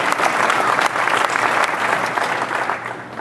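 Dense, steady audience applause fills a tech keynote hall during an Intel Haswell 4th-generation processor graphics presentation, loud and continuous throughout with no one speaking.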